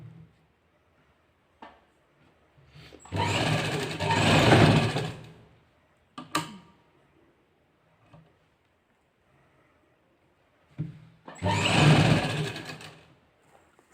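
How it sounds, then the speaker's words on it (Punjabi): A sewing machine stitching the side seam of a lined suit, two sustained bursts of running stitching separated by quiet pauses and a few handling clicks, close and clear, no voices. "ਇਹ ਹੁਣ ਨੀਚੇ ਤੱਕ ਸਿਲਾਈ ਸਾਰੀ ਲਾਉਣੀ ਆ"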